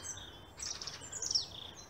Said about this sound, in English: the chirp of the magpies